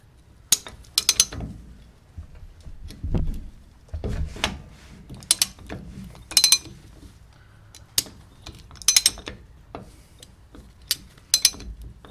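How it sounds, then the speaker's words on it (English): A wheel bearing nut is tightened down to set preload on a first-gen Cummins truck's rear axle during a drum brake job, giving intermittent metallic clicks and ratcheting bursts, close by, with no talking. "I'm going to tighten this down all the way and then back it off a bit to set the preload"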